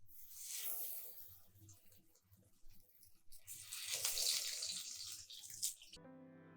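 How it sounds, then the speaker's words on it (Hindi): Fish kebabs hiss and spit in hot mustard oil in a pan, a loud surging sizzle that swells and fades before stopping abruptly near the end. "अब इसमें कबाब फ्राई होने के लिए रख देंगे"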